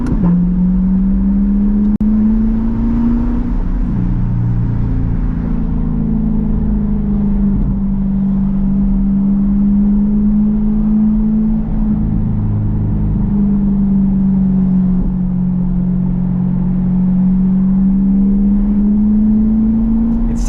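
Convertible car engine with a new exhaust, running at a steady droning rev that rises and falls slightly throughout, loud and close, with wind rush and no talk.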